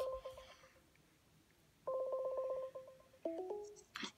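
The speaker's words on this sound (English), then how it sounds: "Click the call button. And it's going to call." Outgoing call ringing tone in a texting app: repeated short electronic tone bursts with brief pauses, followed by a rising chime as the call connects, fairly clear with faint background voices.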